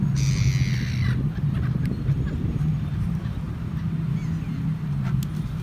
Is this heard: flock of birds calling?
yes